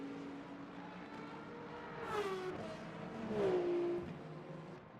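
A BMW race car in the Le Mans Ultimate sim racing game at Bahrain International, engine whining and shifting pitch as it swells louder mid-clip, then eases off, steady and moderately distant.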